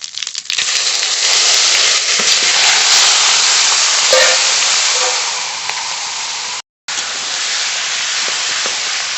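Chicken meat with spices frying hard in a pan with a cumin and bay leaf tempering for ghugni, a loud, steady close hiss of sizzling oil that cuts out briefly once, then resumes.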